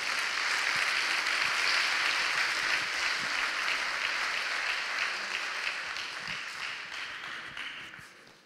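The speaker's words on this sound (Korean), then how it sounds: "다시 한번 큰 박수 부탁드립니다" An audience applauds at the end of a seminary lecture, steady dense clapping filling a hall for several seconds before slowly tapering off, no voices over it.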